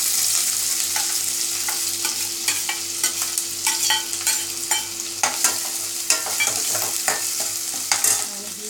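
Chopped onion frying with garlic in a hot pan of oil, a steady close sizzle with frequent sharp crackles and pops and occasional stirring scrapes, no talking.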